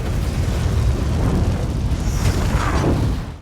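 Explosion in a tornado disaster movie, a loud sustained roaring rumble with heavy low boom and debris texture, continuing steadily before tailing off.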